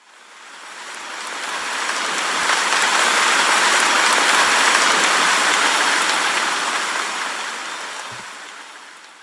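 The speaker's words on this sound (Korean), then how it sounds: "빗방울이 후두둑 떡갈나무 잎을 요란하게 두들겼다" Rain at night beside a pine grove near riverside restaurants, pattering on oak leaves as a dense, steady hiss that swells in the middle and fades toward the end, with no voices.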